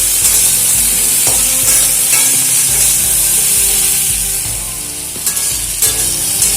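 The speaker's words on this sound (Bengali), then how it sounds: "এবারে পটল আর আলু খুব ভালো করে ভেজে নেব।" Pointed gourd and potatoes fry in a pan with a steady, loud sizzle, broken by a few clinks and scrapes of stirring throughout.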